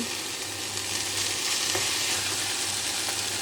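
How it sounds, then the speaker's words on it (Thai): Fiddlehead fern stir-frying in plain oil gives a steady, close hiss of sizzling broadband noise with faint stirring scrapes, continuous and loud throughout, with no talking. "ผักกูดนี้เรามาผัดน้ำมันเฉยๆก็อร่อยนะคะ"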